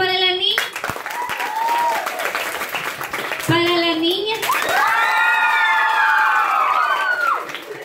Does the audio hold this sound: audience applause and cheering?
yes